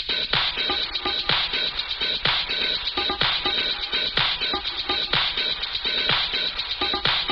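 A processed drum loop soaked in reverb, ping pong delay, OTT compression and distortion, steady, punchy hits in a repeating rhythm, dense and loud with a dulled, band-limited top end.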